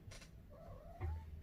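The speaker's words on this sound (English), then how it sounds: "Oh, he meowed back at us." A cat gives a soft, drawn-out meow at low volume, followed by a brief low chirp, with faint background noise and no talking.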